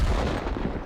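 A heavy tank's cannon fires in World of Tanks, a loud, boomy blast with a rumbling low-end tail that fills the whole second, heard alone without talk.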